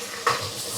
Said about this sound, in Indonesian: Setelah minyak panas, kita tuangkan bumbu yang tadi kita giling ya.